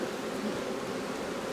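Honeybees buzz at a hive entrance in a dense, continuous hum that holds steady and fairly loud throughout, with no other sounds.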